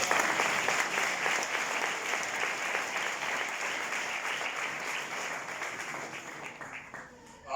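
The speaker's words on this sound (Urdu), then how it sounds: "آیا ہم یسوع کے لیے زوردار تالیاں۔" A church congregation applauds during a sermon at an educational convention, producing a sustained, evenly textured wash of clapping that holds for several seconds before fading near the end, with faint voices mixed in.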